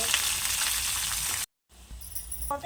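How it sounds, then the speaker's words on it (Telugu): Onions sizzle and crackle in a hot pan for a Telugu dal dish with drumstick leaves and tomato, a dense hiss broken by a brief silent gap before the frying resumes with light clinks. "ఉల్లిపాయలు కొంచెం వేగాలి"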